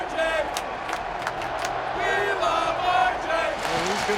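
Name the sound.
hockey crowd cheering for broadcaster Rick Jeanneret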